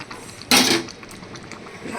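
A cooking pot of thin bata fish curry with ridge gourd and potato is lifted off the stove, giving one loud, brief metallic clatter against a quiet kitchen background.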